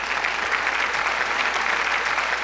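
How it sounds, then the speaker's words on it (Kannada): A studio audience at an Ugadi comedy discussion gives loud, steady applause for Professor Krishnegowda, a dense wash of clapping that holds evenly throughout. "ನಿಮ್ಮ ಜೋರು ಚಪ್ಪಾಳೆ ಕೃಷ್ಣೇಗೌಡರಿಗೆ."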